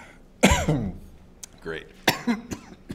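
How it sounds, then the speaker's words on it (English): A man coughs and clears his throat several times in bursts across a few seconds, close and fairly loud, with a brief spoken word between the coughs in what sounds like a lecture room. "It's just that I'm coughing."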